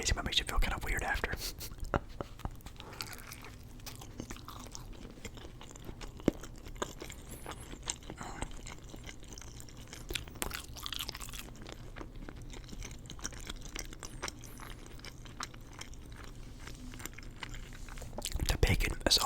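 Soft, close chewing and crunching of a Wendy's breakfast Baconator with bacon runs continuously under quiet whispered talk, with a louder bite near the end.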